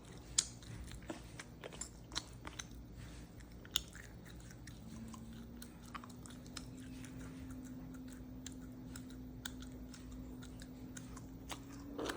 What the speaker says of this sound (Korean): 입을 다물고 씹어주세요